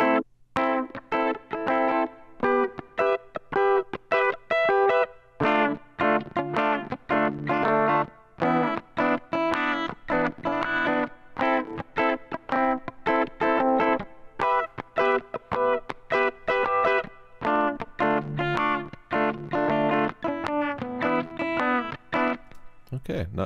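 Distorted, chord-heavy electric guitar plays continuously with a wash of reverb, choppy strums with small gaps between phrases, recorded in Bitwig 2.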